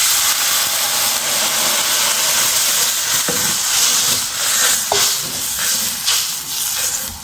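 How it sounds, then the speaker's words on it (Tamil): Coconut milk hits a hot kuzhambu masala with a loud, continuous hissing sizzle up close, and a few faint clinks of a stirring spoon can be heard underneath. "இப்போது நம்ம தேங்காய் பாலில் இதில் சேர்க்குறோம்."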